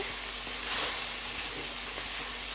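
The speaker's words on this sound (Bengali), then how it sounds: "এবার হচ্ছে পরিমাণ মতো হচ্ছে লাল মরিচের গুঁড়া দিয়ে দিলাম। এবার একটু নাড়াচাড়া করে মিশিয়ে নেব।" Red chili powder being stirred into a fish roe curry in a pan, a steady broadband hiss of sizzling oil and steam holding evenly throughout with no voices.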